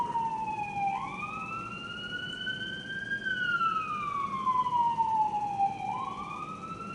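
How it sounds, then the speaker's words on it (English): A wailing siren rising and falling in slow sweeps, heard from a moderate distance over low traffic rumble. "So you incorporate the siren sound"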